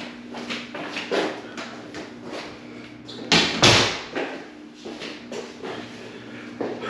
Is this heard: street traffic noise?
no